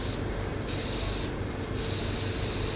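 A multifunction hydrafacial machine, model SPA909, running after start is pressed, giving a loud continuous rough rushing hiss that dips briefly twice, with no talking.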